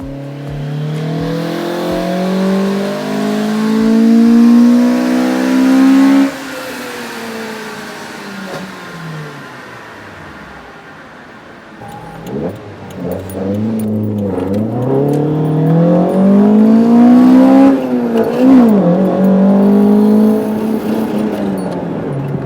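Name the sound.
Toyota 4AGE 20-valve engine in AW11 MR2 revving, driving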